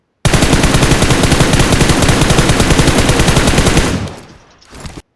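PUBG Mobile automatic weapon firing a loud, close, rapid burst of gunfire lasting nearly four seconds, then cutting off with a fading tail and a brief final echo, no talk.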